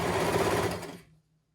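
A sewing machine basting a blanket runs in a quick, close burst of rapid stitching and stops abruptly after about a second.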